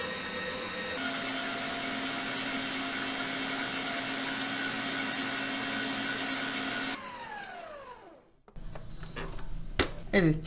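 A kneading machine works dough with small pieces of butter, giving a steady, loud mechanical whir that runs for about seven seconds before winding down, then a few clattering knocks as it stops.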